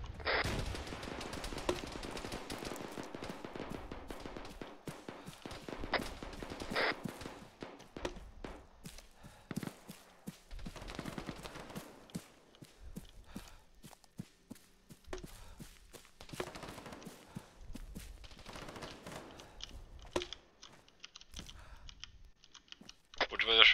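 Gunfire in a military video game match, with scattered bursts and shots at moderate volume mixed with clicks, under occasional talk.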